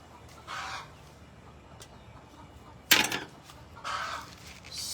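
Chicken belonging to a neighbor, clucking in short bursts outdoors, with one sharp louder squawk midway and quieter clucks around it.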